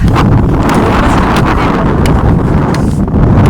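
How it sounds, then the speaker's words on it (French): Strong outdoor wind buffets the microphone in loud, continuous gusts that rumble and roar without a break, with no talking over it. "Le vent se calme."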